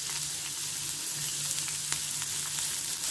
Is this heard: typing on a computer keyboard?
no